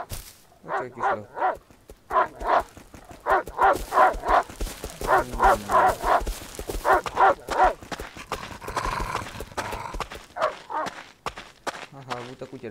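A dog in the game Rust barks in repeated short bursts alongside clopping hooves and footsteps, with people talking throughout.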